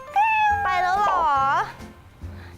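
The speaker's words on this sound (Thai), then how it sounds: "เป็นแมวประจำที่นี่อีกหนึ่งตัวนะคะ" A resident cat at a Thai café with cats lets out a loud, drawn-out meow close by, with a second shorter meow, over a quiet indoor background.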